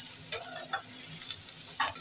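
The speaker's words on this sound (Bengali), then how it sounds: "পটলটাকে সুন্দর করে ভেজে নেব।" Pointed gourd with salt and turmeric fries in a pan with a steady bright sizzle, punctuated by a few soft stirring scrapes close by.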